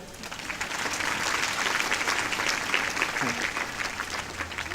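Steady audience applause at a Catholic religious sermon gathering, dense clapping sustained at an even level throughout, fairly distant and filling the hall.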